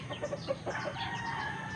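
Hens cluck softly in a coop where they lay eggs, a brief, faint stretch of low murmuring calls.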